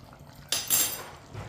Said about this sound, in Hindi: आधा चम्मच गरम मसाला डालेंगे।